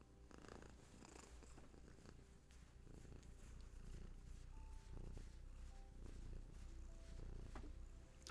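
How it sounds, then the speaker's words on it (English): A cat purrs up close in a quiet room, a soft, continuous rumbling buzz that stays faint and steady throughout with no talk over it. "I hope you heard them purrs."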